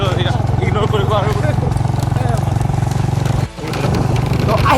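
A motorcycle carries riders along a road, its engine a steady, loud running drone with a brief dip near the end, and a voice talking over it.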